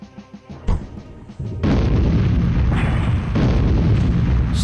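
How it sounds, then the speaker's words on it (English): Explosions from the video game Storm Winds 1.5, a deep boom followed by a dense, continuous roar of blasts and rumbling that builds and stays loud, with no talking. "So many explosions!"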